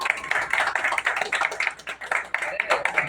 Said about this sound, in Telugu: Once again clap.